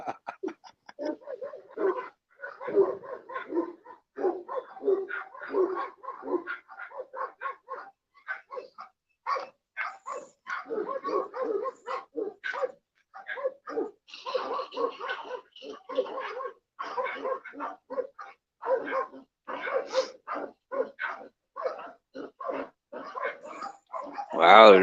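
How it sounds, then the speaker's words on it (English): Several dogs, at least four or five, bark and yip loudly and continuously behind a fence, a dense chorus of overlapping barks with occasional whimpers and high yelps throughout. "those dogs sound like savages behind the other side of that fence"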